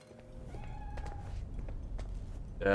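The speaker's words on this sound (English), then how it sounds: "I hear the cat" Cat in the Cyberpunk 2077 video game meowing faintly amid low background hum and ambient game sound, with a brighter burst near the end.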